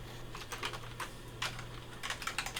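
Keys clack on an official Sega Dreamcast keyboard in quick irregular bursts of typing, close and fairly quiet over a low steady hum.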